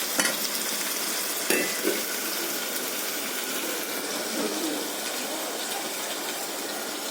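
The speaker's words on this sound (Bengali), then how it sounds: "আলু বেগুনটা ভাজতে তুলে দিয়েছি" Potato and eggplant frying in a pan for a dried-fish curry give a steady, close sizzle that runs the whole way through, with a couple of sharp stirring clanks near the start and no talk.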